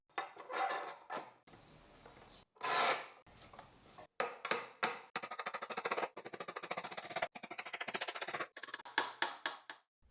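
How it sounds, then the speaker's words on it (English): Hand sanding of pine wood with 100 grit sandpaper, rapid raspy back-and-forth strokes in bursts, loud and close, with brief pauses between passes. "Sanding is done again, this time with 100 grit sandpaper to remove any remaining differences."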